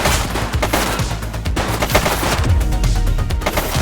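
Rapid gunfire crackles through a police shoot-out in the video game The Precinct, dense overlapping shots and bursts sounding loud and continuous with no voices over them.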